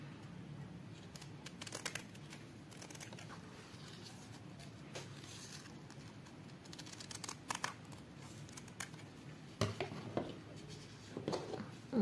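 Quiet snipping and rustling while ribbon material is cut for a bow-making template, with small irregular clicks and crinkles over a low background hum.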